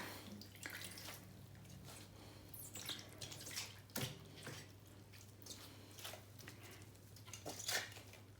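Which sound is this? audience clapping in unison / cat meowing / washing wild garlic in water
washing wild garlic in water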